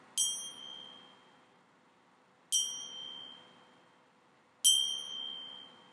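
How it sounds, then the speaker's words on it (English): Antique finger cymbals struck against one another ring out three times at even intervals. Each strike is a bright, clear ping that lingers and fades slowly in an otherwise quiet room. "The way that I generally tend to play antique cymbals is that I strike them against one another."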